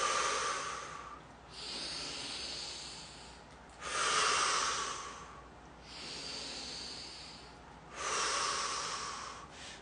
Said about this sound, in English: I'm going to breathe in and out, and I'm going to move back and forth.